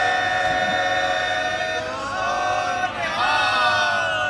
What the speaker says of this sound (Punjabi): ਜੈਕਾਰਾ ਵੱਡਾ ਸਾਰੇ ਮਿਲ ਕੇ ਗਜਾਓ।